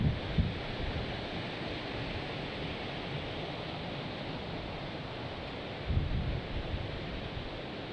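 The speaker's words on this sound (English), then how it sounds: "look at that wind blowing that braided line" Strong wind gusting across open water during a fishing outing, a steady broadband roar buffeting the microphone with brief louder thumps near the start and again later, no voices.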